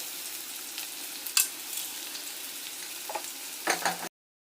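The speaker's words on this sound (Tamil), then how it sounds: "இப்போ இதில் வெங்காயம் ஆட் பண்ணிக்கிறேன்" Onions and green chillies frying in hot oil, a steady close sizzle broken by a few sharp scrapes and clinks from stirring, with no talking.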